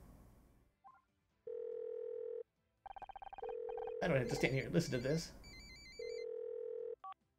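Telephone dialing and ringing in the video game Murder By Numbers: steady repeated ring tones and a short run of dial beeps, with a voice speaking over a burst in the middle before the ringing resumes.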